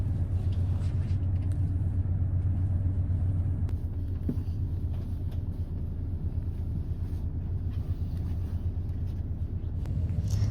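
A Flixbus coach drives on a road from Paris toward Germany, and its engine and road noise make a steady, continuous low rumble from inside the cabin, with a few faint knocks and rattles over about ten seconds.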